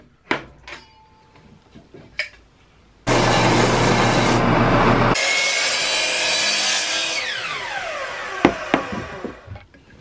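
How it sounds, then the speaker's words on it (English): A handsaw finishes cutting through a cherry wood box: a few sharp taps and knocks, then loud, steady rasping strokes for several seconds that fade out into scattered clunks and clicks. "My table saw was just short of being able to cut all the way through the box, so I finished with a handsaw."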